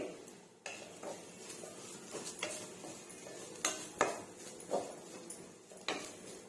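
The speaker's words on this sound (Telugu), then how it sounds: "ఇలా తురిమి పెట్టుకున్న కొబ్బరిని అయితే నేతులు బాగా వేయించుకోవాలండి" Grated coconut frying in ghee in a pan, stirred with a spatula that clinks and scrapes against the metal in irregular strokes over a soft sizzle, close and moderately quiet, with no one talking.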